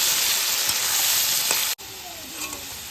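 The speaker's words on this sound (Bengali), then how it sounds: "যেরকম নুন হলুদ দিয়ে ভাজা হয় সেভাবেই আলুটাকে লাল লাল করে ভেজে নেওয়া হচ্ছে" Potato pieces fry in oil seasoned with salt and turmeric in a kadai, a loud steady sizzle that cuts off abruptly partway and resumes more quietly with a few stirring scrapes.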